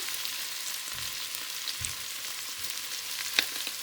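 Vegetables saute quietly in a pan with spices for white chicken chili, a soft steady sizzle broken by a few low bumps and one sharp clink near the end.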